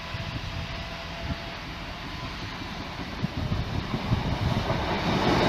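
A train bound for Doncaster via Lincoln and Gainsborough rumbles past the Great Northern Terrace level crossing, a broad, steady roar that slowly grows louder over the few seconds.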